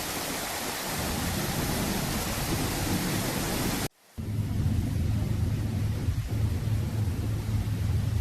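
Heavy, relentless rain pours steadily in Greece during storm flooding, a dense broadband downpour interrupted by a brief gap, then resumes with a low rumbling undertone like distant thunder; no voices.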